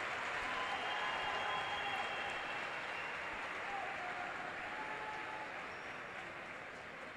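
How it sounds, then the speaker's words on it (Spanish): Applause for a gymnast's routine at the 2021 South American championships, a faint, distant, steady wash of arena clapping that slowly fades. "Muy aplaudido."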